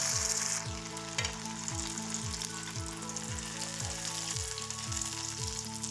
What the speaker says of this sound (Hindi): अभी हम इन्हें फ्राई करेंगे, मीडियम फ्लेम पे हम इसे फ्राई करेंगे और एक एक करके डालेंगे।